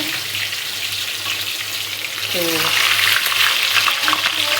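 Chopped onions sizzle in oil for a saag tempering, a constant hiss that swells louder partway through, while a voice speaks briefly over it.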